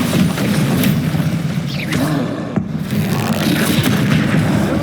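A Bombarda spell explosion in the Hogwarts Legacy video game, loud rumbling booms and thumps inside a dense wash of combat noise, with one sharp crack in the middle.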